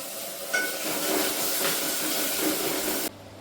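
Ground masala spices fry in hot oil, giving a steady, close hiss that runs for about three seconds and then cuts off abruptly.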